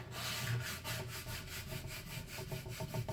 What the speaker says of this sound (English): take your squeegee and rub this down real well